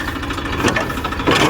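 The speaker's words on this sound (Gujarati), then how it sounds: "જો ટ્રેક્ટર ભાઈને કીધું ભાઈ દાંતી ચાલુ કરી દો" A tractor-driven wheat reaper starts up in a field, its engine giving a close, steady, rough mechanical rumble with rhythmic knocking and no voices over it.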